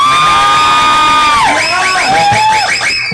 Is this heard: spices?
no